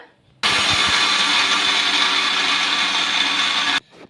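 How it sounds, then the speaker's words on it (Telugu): A mixer grinder whirs loudly for about three seconds grinding rice and peanuts, a harsh steady grinding roar that starts and stops abruptly. "ఒక మిక్సీ జార్ తీసుకొని మిక్సీ పట్టేసుకుందాము"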